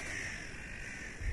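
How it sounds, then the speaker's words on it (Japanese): A crow caws inside a horror survival video game, sounding as a faint, drawn-out harsh call over a low ambient game backdrop. "カラスかよ、脅かせんじゃねえよ。"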